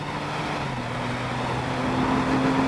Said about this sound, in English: the engine adds this high-pitched, frankly annoying whine